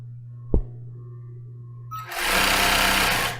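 After a low hum and one dull thump, a sewing machine starts stitching bra lace, a loud, close, steady whirring run that continues to the end with no speech.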